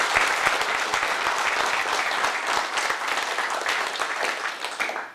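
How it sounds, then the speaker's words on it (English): Vanderbilt football players and staff applaud Reggie Ford after his talk, a full, steady burst of clapping close by that holds for several seconds before fading at the end. "Let's give Reggie Ford a round of applause."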